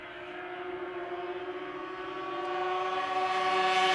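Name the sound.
racing snowmobile sled speeding past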